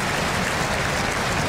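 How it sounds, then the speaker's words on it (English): Bruins fans rise and applaud in a hockey arena after an injured player is wheeled off the ice, a steady, dense wash of clapping and crowd noise filling the building for the whole moment. "Bruins fans rising and applauding"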